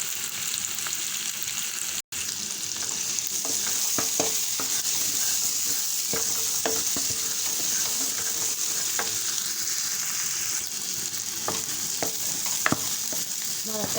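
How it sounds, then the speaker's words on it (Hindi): Steady ghee sizzle and crackle as a pinch of dried fenugreek fries in tempering, with a few soft stirring scrapes, close and continuous, with no talking. "ये है चुटकी भर कसूरी मेथी, ये तड़के के साथ ही भूननी है हमने।"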